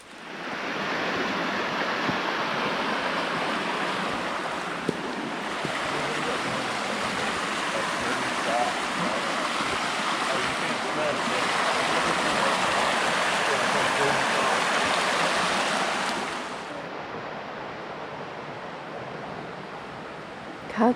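A clear river flows near hidden waterfalls on an autumn trail ride, giving a continuous broad rushing wash of water that stays steady and fairly loud for about twenty seconds, with no talk over it.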